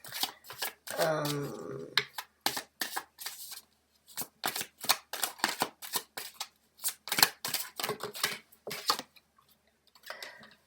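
Tarot cards are shuffled close up in quick, crisp riffling bursts and snapping flicks, separated by short pauses, with a brief hesitant vocal sound near the start.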